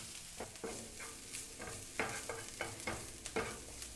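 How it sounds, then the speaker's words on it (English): Onions frying in a pan for shrimp fra diavolo are stirred, producing a quiet, close sizzle broken by several distinct scraping strokes of a utensil against the pan. "Let's give that a stir."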